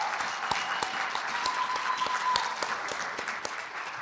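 Lecture audience at Israel Truth Week applauding the organizer: a steady crowd clapping with a few sharper, distinct claps near the front and a faint sustained tone briefly running through the middle.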